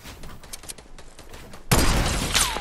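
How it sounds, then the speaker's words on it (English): Gunfire in the battle royale game Fortnite, a few scattered faint shots followed by a sudden loud, close volley that rings out and decays. "Oh, getting shot from the right."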